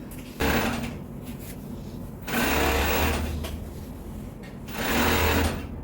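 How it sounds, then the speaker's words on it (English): An overlock sewing machine stitches the edge of a hoodie hood in three loud bursts of steady whirring, each lasting a second or more, with short quiet gaps between them. "So I'll go ahead, overlock it as usual"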